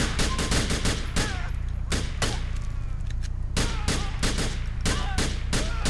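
Rapid GTA IV gunfire crackles close and loud in irregular bursts, with clusters of sharp shots broken by brief pauses and then resuming in quick succession.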